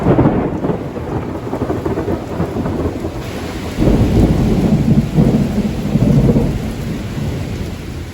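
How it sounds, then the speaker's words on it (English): A summer afternoon thunderstorm in Georgia: heavy rain pours steadily while low thunder rumbles and swells, loud and enveloping throughout. "these incredible summer afternoon thunder showers"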